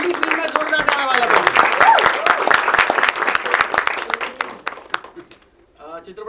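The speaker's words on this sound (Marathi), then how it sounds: "जोरदार टाळ्या वाजवा." A crowd applauds loudly at a Marathi film trailer launch, dense and sustained clapping with whoops and cheering voices on top, thinning out toward the end before speech resumes.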